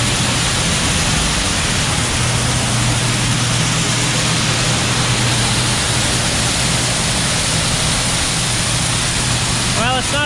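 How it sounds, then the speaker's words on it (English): Shelled corn pouring from a newly remodeled grain bin into a wagon, a steady dense rushing hiss with a low machine drone beneath, continuous and loud. "Here comes the corn."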